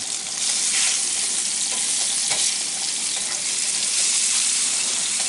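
Food sautéing in hot oil in a kitchen pan while oyster burgers are prepared, a steady, loud, close hiss and crackle of frying that runs unbroken throughout, with no talking.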